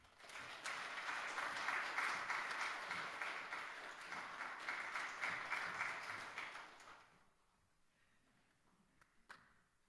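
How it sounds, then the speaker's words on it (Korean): Church congregation applauding during a Sunday worship service, a steady, fairly faint round of clapping lasting several seconds before fading to a quiet room with a few stray taps. "큰 박수로 축하해 주시기 바랍니다"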